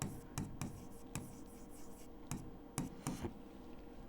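Chalk or marker scratching across a board during a maths lesson, a quick series of short taps and strokes in an irregular rhythm, faint and close, with no talking.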